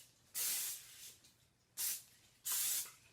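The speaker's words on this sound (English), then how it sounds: "next we're going to spray the bottom of our pan" Cooking spray hissing onto the bottom of a baking pan in a home kitchen, three short bursts of aerosol, the second briefest, each a sharp, close hiss separated by quiet gaps.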